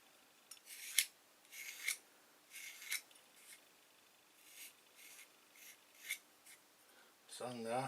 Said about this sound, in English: Sand that.